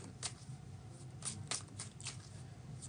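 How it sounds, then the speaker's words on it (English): Tarot cards riffled together in a bridge shuffle, a close, papery flutter with several quick bursts and soft crisp snaps across a quiet room, no talking. "And then do the bridge shuffle."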